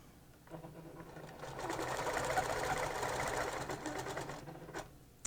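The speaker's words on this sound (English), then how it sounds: "make sure that you've got enough room so that you are able to stitch that part" Sewing machine running steadily for about four seconds, stitching a quilt along a concave curve ruler, with a motor whir starting and stopping cleanly and no talking.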